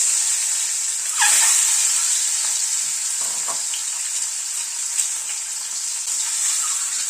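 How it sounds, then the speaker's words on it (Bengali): An egg fries in hot mustard oil in a wok on a gas stove, giving a steady bright sizzle throughout with a brief louder spurt near the start and faint clinks. "তেলটা গরম হয়ে গিয়েছে, ডিমটা ছেড়ে দিচ্ছি।"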